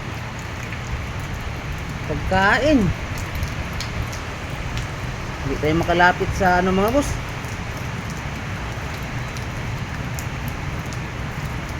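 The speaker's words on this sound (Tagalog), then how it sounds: "Lumakas yung ulan mga boss." Heavy rain pours steadily outdoors as a broad, constant wash throughout, while someone speaks in Filipino over it in two short stretches.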